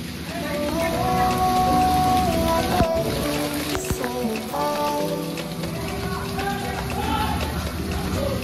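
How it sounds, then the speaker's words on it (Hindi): Heavy rain pouring in Goa, a dense continuous hiss and patter with music or voices faintly mixed underneath throughout. "फिलहाल गोवा में बहुत सारी बारिश हो रही है"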